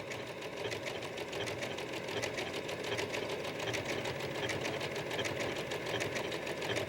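A sewing machine stitches a quilt circle in a continuous, fast, even whir of needle strokes, close and steady throughout with no talking.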